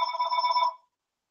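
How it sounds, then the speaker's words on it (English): A telephone rings indoors in a short, bright, steady electronic trill lasting under a second, alone and fairly close, then cuts off into silence. "Oh, wait, sorry, that was my phone."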